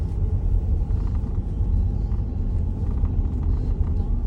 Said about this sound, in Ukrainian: В'їжджаємо на пониженій, на другій, на автоматі.